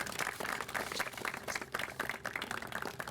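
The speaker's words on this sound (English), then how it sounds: "I think that's a round of applause." A crowd applauds at a Prince George's County public safety facilities celebration, a dense, steady round of clapping that fills the clip without pause or voices.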